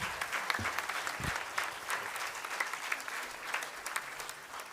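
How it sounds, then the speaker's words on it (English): Steady audience applause greets speakers invited on stage at a spiritual retreat, a continuous, fairly close crackle of many hands clapping with no voices over it. "Let us give a big round of applause to them."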